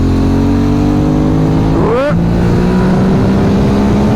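An Aprilia Dorsoduro 750 supermoto's engine revs under load, a steady loud drone that swings up sharply in pitch near the middle and then settles back to a high, sustained tone, with wind noise throughout.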